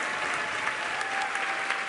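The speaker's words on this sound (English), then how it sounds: "the crowd is definitely hyped about this" A crowd at Starbase, Texas cheers and applauds steadily as Starlink V3 satellites deploy from SpaceX Starship on Flight 13, a dense, continuous roar of clapping and whoops with no voices standing out.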